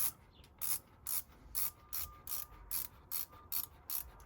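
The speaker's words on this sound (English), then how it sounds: "You expect this thing to go into free winding mode so you can wind the rest of the film onto your spool" A Mamiya 6 camera's film advance wound in free winding mode gives a rapid, even series of dry ratcheting clicks, about ten close, quiet bursts in steady rhythm with no voices.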